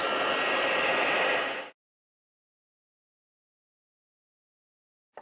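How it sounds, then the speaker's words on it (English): A heat tool blows hot air to melt embossing powder on a stamped card, a loud steady whirring rush for under two seconds that cuts off into silence, with a brief click near the end. "Bring in my embossing powder. Heat emboss it."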